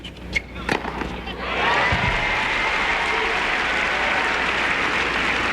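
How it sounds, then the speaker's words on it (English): Tennis crowd applauding Sampras after a point in a match against Agassi at Indian Wells in 2001, a dense sustained wash of clapping that swells in after a few scattered claps and holds loud to the end. "Crowd giving Sampras a hand."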